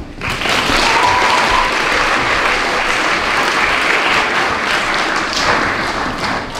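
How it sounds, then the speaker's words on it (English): Audience applause at a junior school prize giving, a dense, steady round of clapping from many hands that starts abruptly and holds evenly before easing at the end. "Let's give them a clap."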